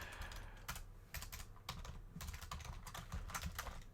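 Fingers type on a computer keyboard in quick, uneven bursts of clicky keystrokes, close and fairly quiet, with no voices.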